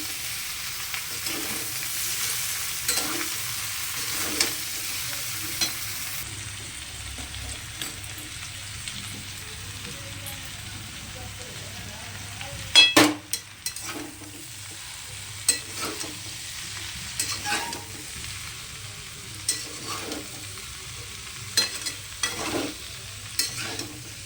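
Cauliflower fries in a pan for curry, a steady background sizzle broken by repeated scraping stirs and clinks of the spatula, loudest around the middle, with no talking.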